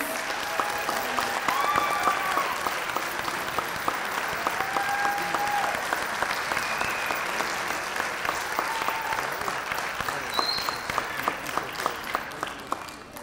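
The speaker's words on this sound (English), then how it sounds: "Let's give a round of applause to Ms. Blanca E. Muskie." Sustained applause from an audience at an elementary school sixth grade graduation ceremony, a steady wash of clapping lasting throughout with no talk over it.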